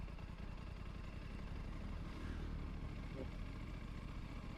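An Aprilia RS457 sport bike rolls along in third gear at idle with no throttle, giving a steady low engine thrum under constant wind noise, without speech.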